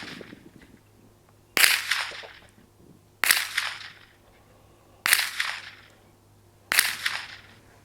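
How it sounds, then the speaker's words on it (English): Five loud rifle shots fired at a target while testing a Leupold VX-5 HD 3-15x44 scope, evenly spaced, each a sharp crack with a short decaying tail, over a steady low hum. "let's fire the first 5 shots at the top left target"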